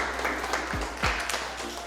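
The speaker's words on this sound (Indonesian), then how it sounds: "silakan beri tepuk tangan untuk kelompok 1" Applause from a classroom audience for group 1 after their presentation, a soft, steady patter of clapping that stays fairly quiet and distant for about two seconds.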